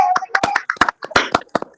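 Several people clapping over an online award-ceremony call, uneven bursts of close, sharp claps in irregular rhythm, with voices speaking in between and over the claps.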